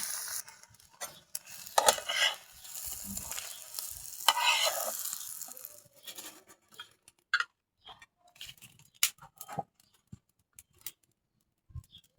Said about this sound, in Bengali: তারা করে ডিমগুলো ভাইজা নিতেছি